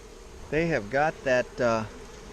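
Honey bees from a freshly installed German package hive, stirred up by smoke, give rising, droning buzzes in four close bursts over a low steady hum.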